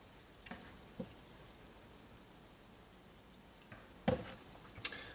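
Ghee bubbles in a pan at 260 Fahrenheit, a faint, sparse crackle and fizz with a few louder pops near the end.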